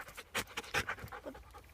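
A dog pants outdoors in a forest, with quick, rhythmic breathy bursts close by and moderately loud, some louder puffs standing out, with no talk.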